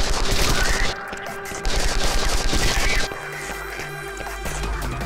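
Rapid video game gunfire from an alien-invasion shooter, loud bursts of repeated shots for about three seconds, then quieter rumbling effects and a low hum as the shooting eases.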